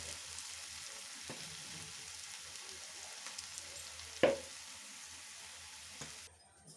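Curry leaf thokku sautéing in a pan, a soft steady frying sizzle with a few sharp clinks of a spoon stirring, one louder knock partway through, fading to quiet at the close.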